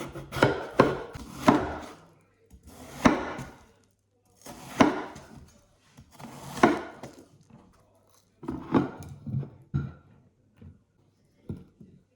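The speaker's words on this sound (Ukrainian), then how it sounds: "я неправильно ріжу кавун" A watermelon being sliced with a knife: a series of crisp, fairly close chopping and cracking cuts in uneven bursts, separated by short quiet pauses, with no voices.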